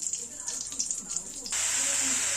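Chopped banana flower drops into hot oil tempered with bay leaves in a karai, setting off a sudden loud, steady hiss of sizzling after a quieter stretch of low crackle.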